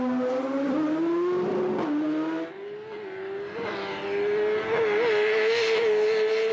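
Engine at a New Zealand national drag racing meet, loud and continuous with a steady rising pitch over six seconds and a brief dip midway, likely a competition bike such as a Kawasaki launching down the strip.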